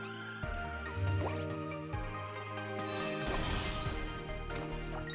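Water Gun attack effect from the Pokemon TCG Pocket card game: a run of bright watery drips and liquid splashes, fairly quiet, with layered game tones sounding beneath.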